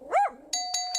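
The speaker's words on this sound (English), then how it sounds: "that bell is making our contestants think someone's at the door" A doorbell-style bell chimes three times in a Jackbox dog game show video game, following a short dog bark or whine at the start; the rings are clear and evenly spaced.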